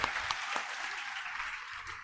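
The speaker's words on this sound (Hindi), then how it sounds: "जोर से ताली होना चाहिए।" Audience applause fills the room at a fairly even, moderate level, with dense scattered clapping throughout and no talk over it.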